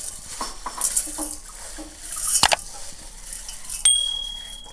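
Soaked mixed pulses tipped into a large kitchen vessel, giving scattered light clinks and rattles of beans and metal with a sharp clatter near the end, fairly close and with no talk.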